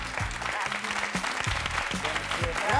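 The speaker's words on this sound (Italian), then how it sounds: "vi vogliamo regalare questo splendido e meritatissimo applauso" Studio audience applauding actors from Italian peplum films on a TV show, a steady dense wash of clapping throughout with a voice speaking underneath.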